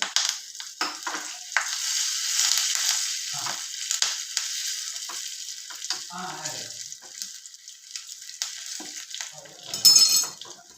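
Curry leaves and cut dried red chilli crackle and sizzle loudly in hot oil, a bright continuous frying hiss with scattered pops and a sharp burst near the end.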